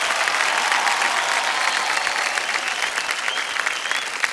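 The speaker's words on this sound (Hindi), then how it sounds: "ताली बजती रहे दीप्ति जी के लिए।" Steady, dense studio audience applause on the set of the quiz show Kaun Banega Crorepati, a continuous wash of many hands clapping at even loudness throughout, with no talk over it.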